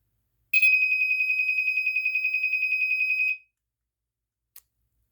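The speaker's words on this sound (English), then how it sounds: "it does the GE warble" A shrill General Electric SMK6-M1 smoke alarm sounds alone on test, pulsing in a rapid warbling rhythm for about three seconds, then stops; a brief faint chirp follows.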